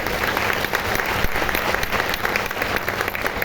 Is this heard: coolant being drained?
no